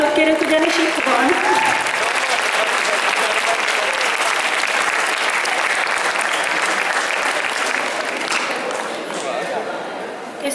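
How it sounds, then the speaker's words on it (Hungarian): A large audience at the autumn 2015 MondoCon results ceremony gives loud, dense, sustained applause for the second-place video contest winner, holding steady for about ten seconds before easing slightly at the end. "Hatalmas tapsot kérünk, ugyanis itt van."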